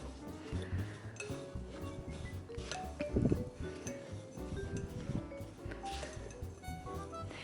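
Cookie dough is stirred with sunflower oil in a bowl, a utensil clinking and scraping against the bowl in an uneven rhythm, soft and close, with one brighter clattering burst midway.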